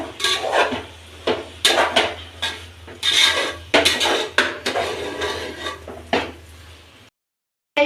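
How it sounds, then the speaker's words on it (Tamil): Chicken kulambu being stirred in a pot at home, with repeated scraping and clinking of a metal spoon against the vessel in irregular bursts, close and fairly loud, with no talking. "அது மாதிரி நல்லா கிளறி விடுங்க"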